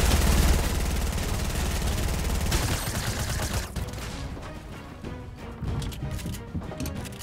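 Dense, continuous gunfire in a Fortnite-style video game, sniper rifle shots mixed into a loud, sustained barrage that thins slightly toward the end, with no talking over it.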